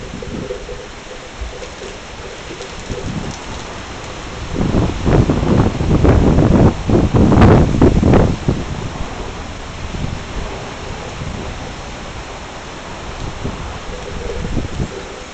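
Storm wind and rain in Wisconsin roar as broad, steady noise, building into stronger gusts in the middle before easing back, with no voices heard.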